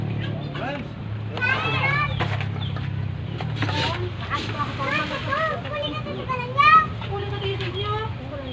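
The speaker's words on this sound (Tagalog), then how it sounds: "Mga makukulit na mga manok." Several chickens cluck and chirp in short, busy bursts over a steady low hum, with children's voices and chatter mixed in nearby.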